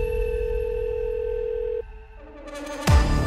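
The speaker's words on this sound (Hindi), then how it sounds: "अचानक 10:30 बजे फोन आता है।" A telephone tone in a Hindi film trailer: a steady electronic tone that cuts off abruptly, followed by quieter electronic sounds and a sharp loud hit near the end, with no talk.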